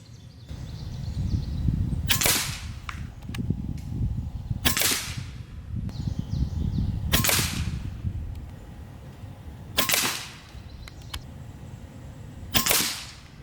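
A Gen 3 Benjamin Marauder air rifle fires 15.89 grain JSB pellets, five loud sharp cracks spaced a few seconds apart, each with a quick bright snap, over a low steady background rumble.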